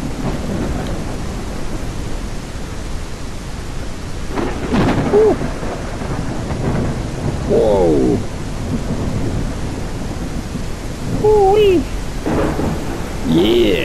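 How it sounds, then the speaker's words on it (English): Thunderstorm with rolling thunder and steady rain in the VR kayaking game Kayak VR: Mirage, a continuous loud wash of rain with deep rumbles, occasional brief voice-like calls faintly over it. "Don't get hit by lightning, Tazzy."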